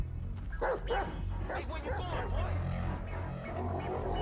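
A dog in Grand Theft Auto V barks and yips in short bursts under someone talking, over a steady low game background hum.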